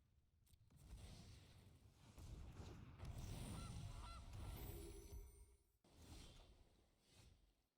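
Cartoonish goose honks from a Naya Adventures card game sound effect, several close repeated honks with whooshy noise over about eight seconds, a brief gap near the end before another burst.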